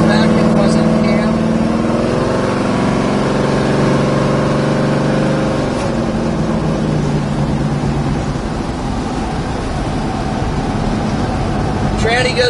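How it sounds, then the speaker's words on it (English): A 1970 Chevrolet Chevelle driving along, its engine drone steady at first and then easing in pitch as the transmission shifts into overdrive, with road noise continuing afterward. "Tranny goes into overdrive just like it should."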